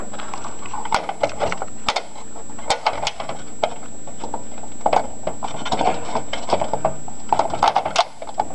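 Jukebox panel knocked and latched into place, a series of sharp clicks and wooden taps scattered irregularly at close range, with no talking.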